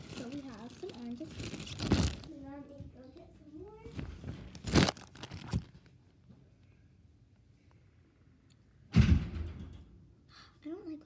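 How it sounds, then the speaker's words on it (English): A door slams in a house, giving a few sharp thuds and bangs spread through the stretch, one loud hit near the end, mixed with rustling and crinkling while a voice talks early on. "I don't like when she slams that door."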